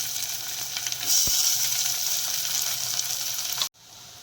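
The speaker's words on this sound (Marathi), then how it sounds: "आता आपण कांदा टाकूया कांदा तेलामध्ये छान फ्राय करून घ्यायचा" Chopped onion fries in hot oil for dhaba-style dal tadka, a bright, steady sizzle close up with a brief stir-like bump partway through, cutting off abruptly near the end.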